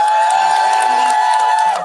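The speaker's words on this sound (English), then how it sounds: "Let's give a round of applause to all the speakers that we had today" A rally crowd in Washington D.C. cheers and applauds loudly and steadily, with whoops rising over a sustained high tone and a voice talking through the noise.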